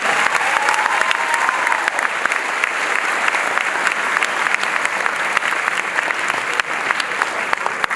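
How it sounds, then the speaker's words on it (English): A large high school graduation audience applauds loudly and steadily, dense clapping with a few scattered cheers throughout. "Give yourselves a round of applause."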